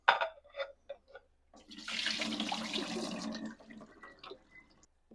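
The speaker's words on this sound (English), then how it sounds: "I'm just going to use my lid to help drain." A few clinks of a lid against a pot, then a steady rush of water pouring out as potatoes are drained for a couple of seconds, followed by drips and light clatter.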